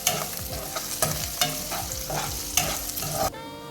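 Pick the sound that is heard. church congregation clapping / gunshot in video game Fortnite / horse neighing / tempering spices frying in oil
tempering spices frying in oil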